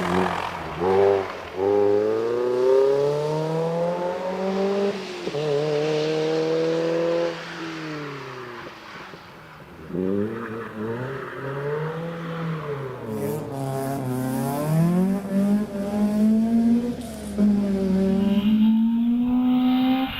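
A Mazda MX-5 rally car climbs a hillclimb course, its engine revving up and down through gear changes in a sustained, fairly loud wail that rises and falls as it pulls away.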